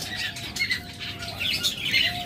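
A crowd of budgerigars at a bird seller's stall, chirping and tweeting in a busy chatter with bursts of wing flapping, close and moderately loud, with no talking.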